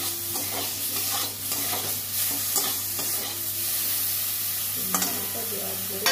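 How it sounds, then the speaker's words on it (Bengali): Eggplant frying in oil in a pan, steady sizzling throughout with scraping and clinking as it is stirred, close and clear with no talking. "ভালো করে ভেজে নেব।"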